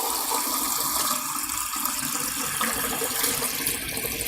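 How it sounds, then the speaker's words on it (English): Filtered tap water pours steadily from a household tap filtration system into a measuring container, a continuous close splashing and gurgling rush lasting the whole stretch with no voices. "So this is tap water, but it's filtered tap water."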